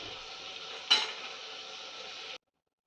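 Chicken pieces sizzle and fry in a heavy pan of oil for biryani, with a steady close crackle and one brief stirring scrape near the start, alone without talk, cutting off abruptly.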